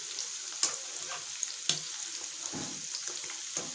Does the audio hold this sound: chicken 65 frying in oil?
yes